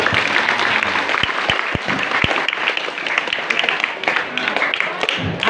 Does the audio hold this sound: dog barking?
no